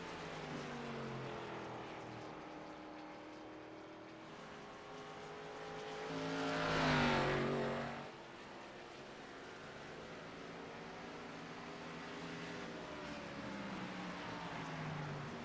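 Race cars in a sim racing game lapping New Hampshire on the final lap, steady engine drone with rising and falling pitch as a car roars close by in a loud pass mid-way.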